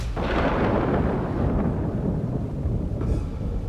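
A B-2 bomber flanked by F-35 fighter jets flies over the White House, making a continuous loud, deep roar that swells and rumbles steadily overhead with no voices.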